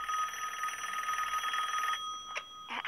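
A telephone rings indoors in an animated sitcom, a continuous trilling bell that stops partway through, followed by a couple of brief clicks and rustles.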